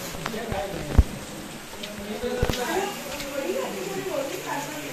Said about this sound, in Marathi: आता पाऊस सुरू झाला